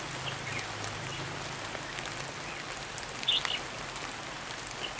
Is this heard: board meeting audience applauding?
no